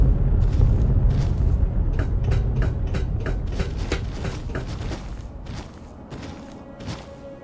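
Deep rumbling explosion from bombing in the game Fallout 3 slowly fades, overlaid with a rapid series of sharp crackling pops and debris-like clicks, with no speech.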